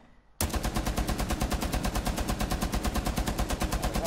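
Tachanka's machine gun in Rainbow Six Siege fires a rapid, evenly spaced burst of loud shots right after a short quiet moment, continuing without pause to the end.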